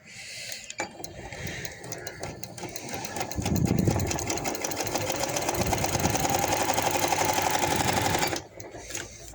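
A sewing machine stitching along a coat collar neckline, its needle running in a steady rapid mechanical chatter for most of the stretch, growing louder midway before stopping near the end; no talking.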